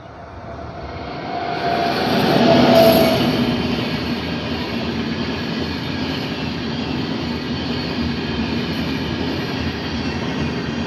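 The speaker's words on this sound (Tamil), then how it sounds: "ட்ரெயின் வருதா?" A train rumbles past outdoors, a broad steady roar that swells to a peak around three seconds in and then holds at a continuous, slightly quieter level, with no talking.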